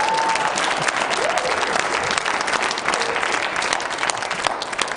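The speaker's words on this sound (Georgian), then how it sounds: "სად არის ტაში?" A studio audience applauding loudly and steadily at a Georgian late-night talk show, dense continuous clapping from a crowd with a few faint voices mixed in.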